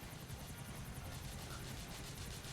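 A helicopter in the video game GTA IV multiplayer at an airport, its rotor and engine making a loud, steady drone with a fast rhythmic beat that holds for the whole stretch, with no talking.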